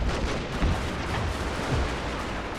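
Artillery fire and gunshots from a war video game crash in a dense, continuous barrage of overlapping booms and cracks, loud and sustained with no talking.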